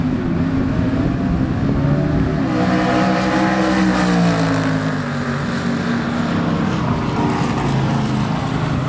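A nitrous-fed 1967 Chevrolet Camaro with a 408 cubic inch engine runs down the strip at Cecil County Dragway during an outlaw street car drag race, a loud continuous engine roar whose pitch swells and shifts throughout.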